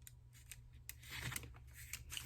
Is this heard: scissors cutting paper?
yes